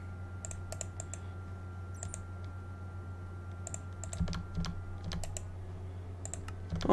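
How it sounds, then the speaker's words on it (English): Rapid computer clicking while playing Minecraft, bursts of crisp, close clicks in quick clusters separated by short pauses over a low steady hum. "that's me clicking as fast as I can"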